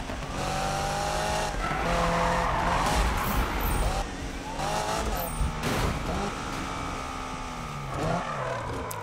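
A car in the Need for Speed 2015 racing game skids sideways with drawn-out tire squeals over a roaring engine, loud and continuous, with a voice talking over it.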